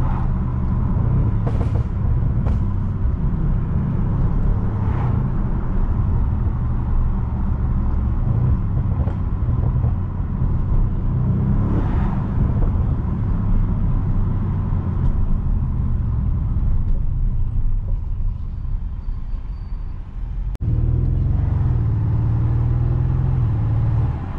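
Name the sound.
car driving through town at 50 km/h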